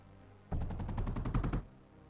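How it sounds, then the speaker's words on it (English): Anti-air turrets in the game Mindustry firing metaglass, a rapid stuttering burst of about a dozen evenly spaced shots lasting just over a second, fairly loud, with quiet before and after. "let's fire metaglass from our anti-air turrets"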